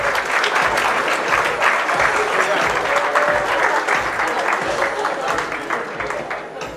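Wedding reception guests give a big, lively round of applause for the maids of honor, dense clapping with some cheering voices underneath, tapering slightly toward the end.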